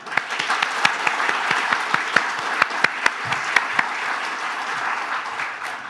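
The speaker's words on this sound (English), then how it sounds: "So please join me in giving them a big round of applause" Steady audience applause at a conference closing ceremony, dense clapping from a crowd held at an even level for the whole stretch with a few sharper individual claps standing out, no voices on top.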